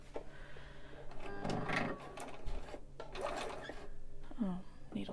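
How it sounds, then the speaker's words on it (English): A sewing machine stitches a seam in robe fabric a quarter inch from the edge, along the presser foot, running in steady whirring bursts up close with brief pauses and some handling noise between runs. "So I'm going to go ahead, sew at 1/4 of an inch, or at least at the edge of the presser foot"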